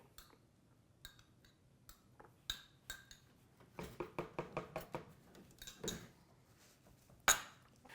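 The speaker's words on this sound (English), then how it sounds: "you could use that same spoon to scrape it right into our blender." A spoon scrapes salad dressing for a kale Waldorf salad into a blender: scattered clinks and scrapes, then a quick run of knocks midway and one sharp clack near the end, with no one talking.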